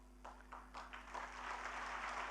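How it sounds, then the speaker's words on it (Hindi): Audience applause at an address to civil services toppers, starting as scattered claps and building into a fuller, steady round of clapping in a hall, moderately loud with a low hum underneath. "तालियां कम बजी"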